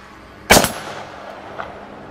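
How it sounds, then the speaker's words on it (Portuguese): A single sharp gunshot sound effect, loud and abrupt, followed by a short decaying tail and a faint later echo, with no talking. "Mais um tiro foi disparado."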